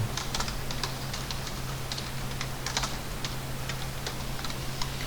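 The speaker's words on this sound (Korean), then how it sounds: "4개를 하나씩 클릭해 주셔야 되고" Computer mouse clicks during a CAD drafting lesson: a scattered series of light, sharp ticks, some in quick pairs, over a steady low electrical hum and faint room noise.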